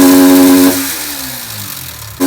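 Yamaha R15 V4 motorcycle engine with an abnormal noise, heard close and loud: a steady idle hum that drops away, leaving rough mechanical rattling, then picks up again near the end.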